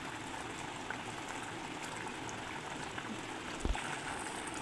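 Hilsa fish curry boils in a pan with a steady, even bubbling hiss that holds throughout, with one brief soft knock near the end and no voices.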